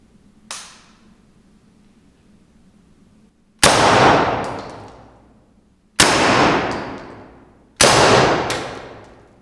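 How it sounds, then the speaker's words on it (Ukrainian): Four sharp shots from a suppressed 9x21 submachine gun, one quieter and then three loud cracks spaced about two seconds apart, each with a decaying tail, no talking. "Спеціально стріляю без навушників, тому що тут є глушник."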